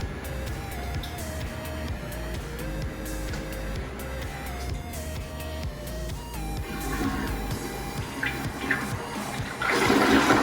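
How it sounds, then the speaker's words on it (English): A household toilet flushes after a new flapper is fitted: a steady rushing of water through the bowl and tank for several seconds, swelling into a louder gush near the end, with no talking. "we'll just wait for our toilet to fill up a tank, and then we'll go ahead and try it and flush it"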